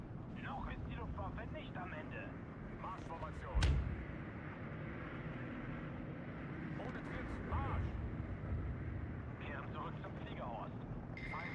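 Bombers strike targets in Steel Division 2, with a sharp blast and rumbling impacts landing amid engine drone and battle noise. A voice speaks over the action.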